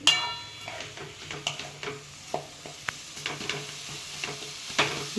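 A vegetable dish with kurdai and red chili powder sautéed in a pan, quiet sizzle under repeated scraping stirs and metallic clinks of a spoon against the pan, close and fairly faint, no talk.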